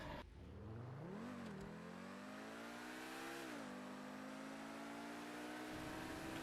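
A Pagani car engine drones steadily on a video game test drive, swelling into two revs before settling back to an even, close hum with no talking.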